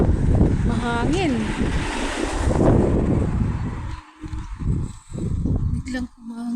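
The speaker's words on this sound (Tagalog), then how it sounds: "Biglang humangin." Wind gusts hard on an outdoor street in Stuttgart, Germany, rumbling and buffeting the microphone in a loud, rough roar that fades into choppier gusts, with a voice talking underneath.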